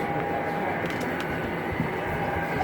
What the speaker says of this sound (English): after these two trains pass